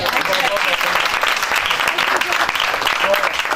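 A church congregation applauds in praise during a Hindi-language Christian sermon, with steady, dense clapping filling the room for several seconds and some voices faintly mixed in.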